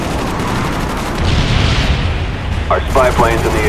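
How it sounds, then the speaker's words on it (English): Napalm strike in the video game Call of Duty Black Ops on the Hangar map, a loud sustained roar of burning explosions with a rumbling low end, joined late by a game announcer voice. "Napalm strike coming in hot."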